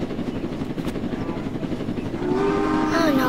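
A train in the Roblox Jailbreak video game sounds a sustained horn-like tone that rises over the steady rhythmic chop of a nearby helicopter in the second half.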